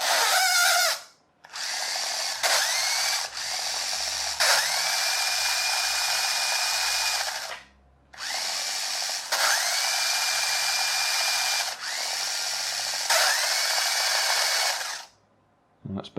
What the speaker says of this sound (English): something slipping. It might be the gear on the actual axle.